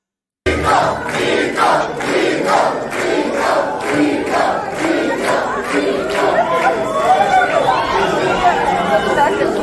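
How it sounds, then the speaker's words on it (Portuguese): A large crowd at a legislative vote on privatizing the Sabesp water utility roars and shouts in repeated surging waves, loud and close, with a dense mix of voices throughout. "Zero retaliação, hostilidade, todo mundo aplaudindo."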